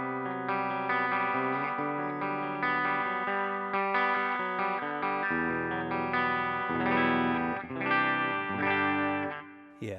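An electric guitar plays through a Two Notes Genome Fender 112 amp model with a clean tone. Chords and single notes ring out continuously with a shimmering, chorus-like modulation, and no one talks over it.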